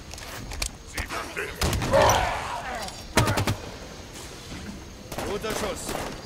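Gunfire in the video game Halo 5: Guardians: sharp, loud bursts of shots crack out in several separate volleys over a busy game soundscape, with voices talking in between.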